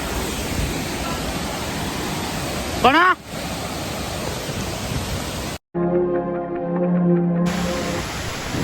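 Steady roaring rush of a waterfall in Odisha, loud and close and unbroken, with a brief voice and a short dropout partway through before the roar returns.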